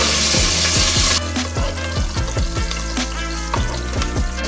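Garlic and curry leaves fry in sunflower oil, a steady close sizzle broken by regular scraping knocks of a stirring spoon against the pan, with no voices.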